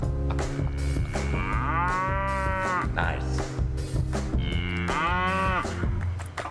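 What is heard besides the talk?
cow mooing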